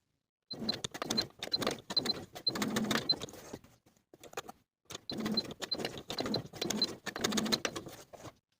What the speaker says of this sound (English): we're going to sew basting stitches at a 3/8 inch seam allowance, leaving tails on both ends